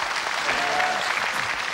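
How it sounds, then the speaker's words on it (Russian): TV studio audience breaking into applause, a dense burst of clapping heard up close and filling the whole short moment. "Аплодисменты Рустаму!"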